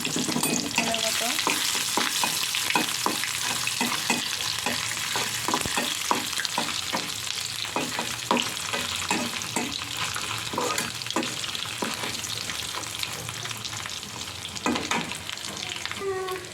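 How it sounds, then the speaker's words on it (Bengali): Pieces of dried lota fish (Bombay duck) fry steadily in a pan, giving a continuous sizzle broken by frequent scraping stir strokes, close and fairly loud with no voices. "তারপর হচ্ছে আমি লোটা শুটকি টুকরো টুকরো করে রাখা, এটাকে আমি ভেজে নেব"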